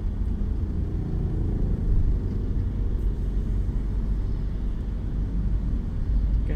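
Car engine rumbling steadily and building slightly during a driving lesson on a public road, a continuous loud low drone with road noise throughout and no talk.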